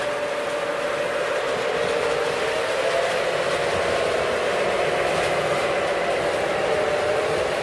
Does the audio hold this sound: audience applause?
no